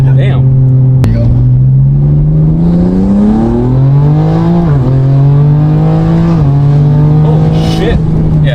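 A car with a tuned stock S58 engine, upgraded twin turbos and port injection pulls hard, loud and close, its engine note climbing through rising revs with brief dips at gear shifts.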